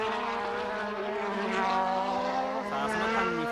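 A 1987 Portuguese Grand Prix Formula 1 car accelerates hard out of the pit lane, a loud, continuous high-revving engine whine with rising harmonics under a commentator's voice.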